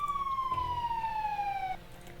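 An ambulance siren in the Emergency 4 firefighting video game: a single wailing tone that slides steadily downward, fairly loud and clear, then cuts off abruptly, with no voices.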